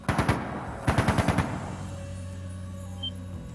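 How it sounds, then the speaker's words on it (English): Gunfire in the video game Trails of Cold Steel II, two quick bursts of rapid automatic shots in close succession, loud and clear with no talk, followed by a low sustained tone. "That didn't sound good. That sounded like gunfire."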